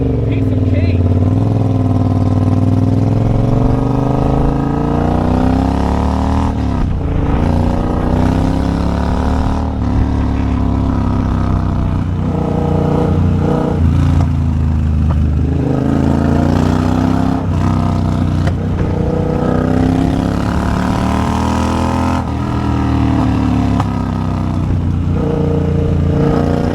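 A Triumph Bobber motorcycle climbs a steep uphill hairpin turn, its engine droning loud and steady with rising and falling revs, heard up close throughout.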